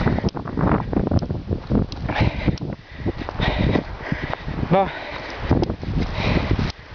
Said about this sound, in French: Il y a beaucoup de rafales de vent.